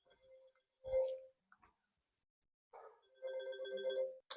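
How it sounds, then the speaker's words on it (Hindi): A telephone rings in two short bursts separated by a pause in an indoor teaching setting, fairly faint and heard alone without talk. "फिर से फोन आ गया"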